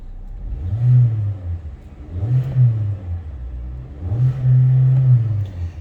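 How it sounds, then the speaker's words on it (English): A raspy 146-horsepower 4-cylinder engine in a 2022 Kia Forte LXS is revved three times in close succession, each blip rising and falling, the last held slightly longer, loud and close with no talking. "it's a very kind of raspy 4-cylinder"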